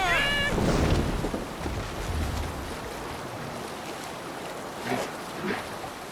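A longship moving across open water in Assassin's Creed Valhalla, steady wash of waves and wind rushing past, with a brief shout at the start and a few faint voices later.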